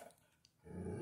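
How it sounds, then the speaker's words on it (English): Dogs play indoors with a low, rough growl rising after a quiet moment, close and fairly soft. "Ignore my dog. They're playing."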